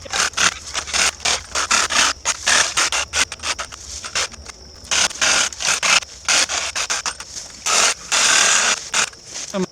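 A reciprocating saw buzzes in rapid back-and-forth strokes through branches, loud and close, starting and stopping in short bursts.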